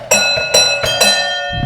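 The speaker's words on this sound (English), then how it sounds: "And then you have a bell. Is that a bell button in the middle back there?" A button-operated bell on an 1898 Jean Perrin vis-à-vis one-cylinder voiturette rings out four times, each bright metallic strike close and loud, ringing on briefly between presses.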